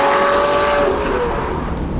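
A 640 PS Lamborghini sports car is driven hard, its engine roaring loudly nearby while a high tyre squeal rises briefly and fades into a steady rushing drone.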